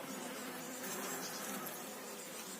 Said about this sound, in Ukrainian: Виходить бджола, висувається наново.